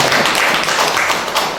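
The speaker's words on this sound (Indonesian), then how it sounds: "Silakan tepuk tangan dulu yuk." Schoolchildren in a classroom clap together during a lesson, a loud, close, dense burst of hand claps running steadily for over a second with a small thump at the end.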